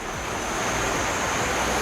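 The Mae Sa stream near an elephant camp in Chiang Mai rushes past in a steady, dense wash of water noise, close and continuous, with no voices over it.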